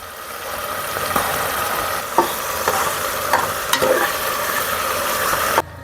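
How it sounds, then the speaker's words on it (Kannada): Tomatoes with ginger-garlic paste fry steadily in a pan, a continuous close sizzle broken by a few soft clicks and scrapes of stirring. "ಟೊಮೊಟೊ ಫ್ರೈ ಆಗ್ತೈತೆ, ಇನ್ನೊಂದು ಸ್ವಲ್ಪ ಚೆನ್ನಾಗಿ ಫ್ರೈ ಆಗಲಿ."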